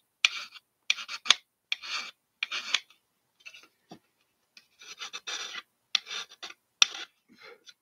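Metal file rasping on a plastic model car part from an AMT 1977 Ford kit, worked in short push strokes: about ten quick scraping bursts separated by brief pauses, close and fairly quiet, with no talking.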